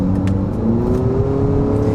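A 2021 Acura ILX A-Spec engine revs steadily from inside the cabin, a sustained whirring drone that rises slightly in pitch over two seconds, loud and continuous with no talking.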